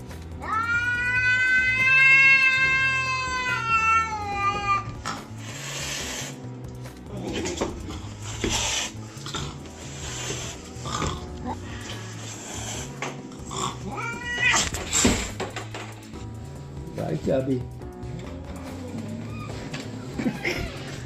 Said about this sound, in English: the cat didn't realise that and was protecting the owner's home